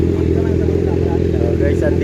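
A motorcycle engine running loud and close, idling with a steady throbbing rumble and exhaust note, with faint clatter near the end.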